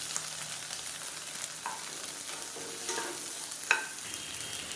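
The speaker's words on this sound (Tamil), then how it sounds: "இதையும் நல்லா வதக்கி விட்டுக்கலாம்." Onions and tomatoes sauté in a pan, a soft steady sizzle broken by occasional scrapes and clinks of a stirring spoon, close by with no talking.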